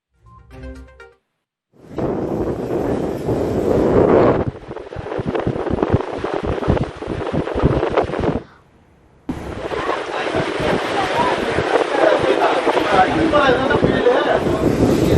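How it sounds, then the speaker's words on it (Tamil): Strong cyclone winds buffet the microphone on the coast near Nagapattinam, a loud roaring gust that drops out briefly and returns, with surf and waves churning beneath. "பாப்பா கோயில் புத்தூர் உள்ளிட்ட இடங்களில் சூறை காற்றானது வீசிக்கொண்டிருக்கிறது"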